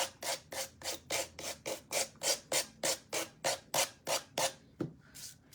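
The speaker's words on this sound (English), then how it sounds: "we're just gonna get our finger sander and just kind of go around these edges" A finger sander works around the edges of a snow globe angel craft piece in a steady series of about fifteen short rhythmic rasping strokes, close and clear with no talking.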